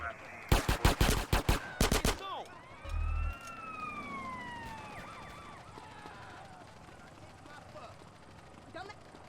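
Gunfire in GTA Online or GTA San Andreas Chaos Mod: a rapid burst of about eight loud, close shots in quick rhythm, then one heavier thump, with sirens wailing and game ambience trailing off after.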